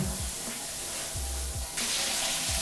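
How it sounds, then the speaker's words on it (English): Apartment shower head spraying in rain mode, a steady close rush of falling water that gets noticeably brighter and louder near the end, with faint low thumps underneath. "The shower head, it does mist. It can hit you with the rain,"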